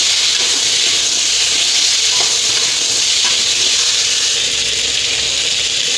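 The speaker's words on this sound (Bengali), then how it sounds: "এখন এই ওল ভাজছি" Pieces of elephant foot yam fry with turmeric and salt, giving a close, loud, even hiss of sizzling oil that holds steady throughout with no talking.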